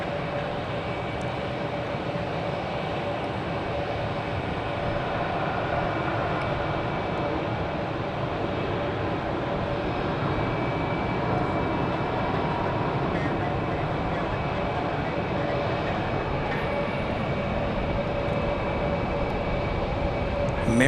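An American Airlines jet arriving from Las Vegas at Phoenix airport gives a loud, sustained engine roar with a steady whine, continuous from start to finish with a faint swell at the very end.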